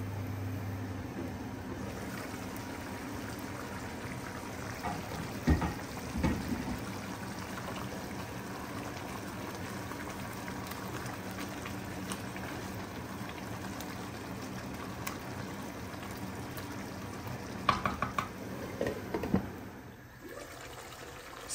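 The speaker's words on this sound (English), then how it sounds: "Now let this simmer for about 5 to 6 minutes" Coconut spinach chicken curry simmers in a pot, giving a steady soft bubbling and watery churn with occasional louder pops and stirs, no voices present.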